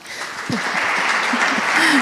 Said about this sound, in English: We can just applaud you.